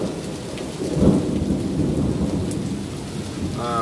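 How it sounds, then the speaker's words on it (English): Low rumbling thunder rolls under steady pouring rain during a nighttime thunderstorm, a dense close wash of rain with the rumble swelling and fading. "It's raining, it's pouring."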